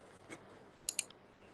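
Sharp computer mouse clicks while working in Visual Basic for an Excel VBA macro: a soft click, then a quick close pair and a fainter third click, near and crisp over a quiet room.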